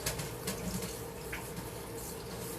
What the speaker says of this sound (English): I'm just going to run some cool water on them.